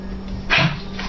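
A single short dog bark or yip rings out briefly in an indoor room, with quiet background hum around it.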